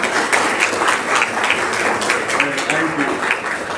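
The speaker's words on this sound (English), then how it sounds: "Round of applause for the vote." Audience applause at a community school voucher forum, continuous crowd clapping with overlapping individual claps and murmuring voices underneath, fairly loud and sustained.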